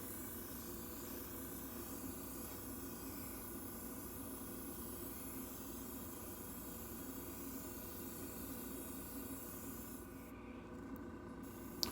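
A steady airbrush hiss runs continuously at low volume while spraying color-shift paint on a scale model, with a short pause near the end.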